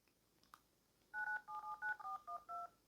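An iPhone keypad sounds touch tones while a phone number is dialed: about eight quick, evenly spaced beeps in a steady rhythm, faint and close, after a brief quiet pause.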